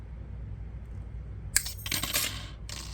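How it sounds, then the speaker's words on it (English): Wire cutters snip the metal binding wire of a wire-bound 7x8.5 inch notebook: a sharp metallic click, then a second cut and brief clinks, close up against a quiet room. "I'm going to cut the wire that's holding this loop to this loop."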